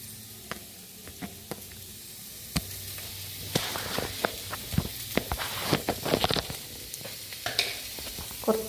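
Masala frying with tomato and bitter gourd in a pan, a close crackling sizzle broken by repeated stirring scrapes and clacks that grow busier toward the end, with no talk.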